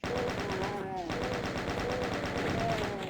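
Rapid chain gun fire in the video game DOOM, a steady loud mechanical rattle running without a break from start to end.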